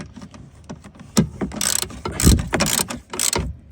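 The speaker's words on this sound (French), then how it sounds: "On remet sa vis de 13 avec douille cliquée." Ratchet socket tightening a 13 mm screw while installing seat belts in a Volkswagen Golf, close-up bursts of quick metallic ratchet clicks separated by short pauses, no talk.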